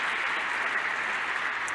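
Audience applause at an in-person talk, a steady wash of clapping from a crowd, even and moderately loud throughout without pauses.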